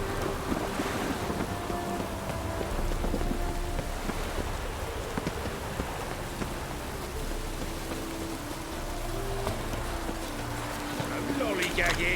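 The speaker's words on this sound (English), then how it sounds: "Rain again." Steady rain falls in The Witcher video game, a continuous even wash of noise mixed with gusty wind that stays at moderate loudness throughout.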